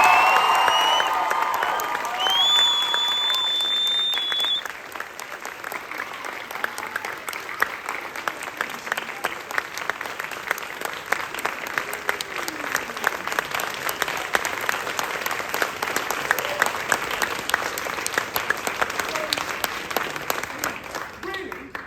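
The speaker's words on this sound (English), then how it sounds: "coming up, perhaps the loudest round of applause" A theatre audience applauds loudly at the end of a Lord of the Rings pantomime, sustained clapping with some cheering that swells and continues for a long stretch, with a voice talking over the start.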